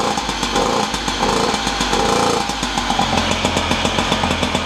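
An MR1 Tomahawk motorbike's small engine runs just after starting, a close, buzzing rapid putter that surges briefly and then settles into a steady idle, with no voices.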